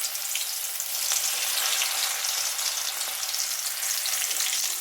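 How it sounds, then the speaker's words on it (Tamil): Soaked okra strips fry in oil in a kadai with a steady, loud, close crackling sizzle throughout, no voices. "ஒரு கடாயில் எண்ணெய் விட்டு இந்த ஊற வச்சுருந்த ஸ்டிச் ஸ்டிச்சாக இருக்கிற வெண்டைக்காயை இது மாதிரி தனித்தனியாக போட்டுக்குவோம்"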